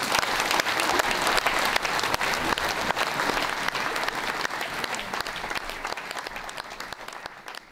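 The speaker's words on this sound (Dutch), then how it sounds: "Dames en heren, het was een groot applaus." An audience at a royal decoration ceremony breaks into sustained, dense clapping, loud and even at first before slowly thinning and fading toward the end.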